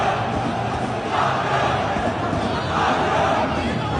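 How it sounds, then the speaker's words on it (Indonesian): A large crowd of Chinese football supporters jeers at the visiting Indonesian national team in a packed stadium, a steady, loud wash of massed voices swelling slightly in two waves. "para pemain timnas Indonesia mendapatkan sorakan dari para supporter Cina"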